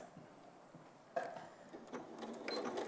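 A home sewing machine stitches a quilting fabric seam at a quarter-inch allowance, its quiet rapid mechanical whirring starting abruptly partway through and running steadily near the mic, with no talking.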